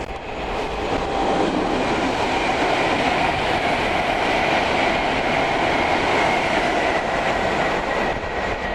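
Decorated passenger train moving through busy Nuneaton railway station, a loud steady rumble of wheels and carriages rolling past close by for the whole stretch, with no talking.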